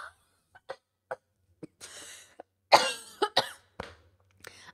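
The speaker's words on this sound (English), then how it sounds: "My cough is not great, but it's better." A person coughs in a series of separate, sharp bursts, some clustered in quick pairs and others isolated, heard close up with no talking.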